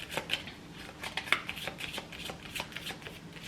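Oracle cards being shuffled by hand during a tarot-style reading, a steady run of soft papery riffles and flicks close up, with no talking.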